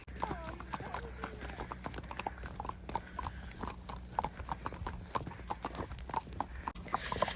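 Horses' hooves clip-clop steadily in an irregular rhythm as ponies are brought in from the field in the afternoon, close and continuous, with faint voices and outdoor ambience beneath.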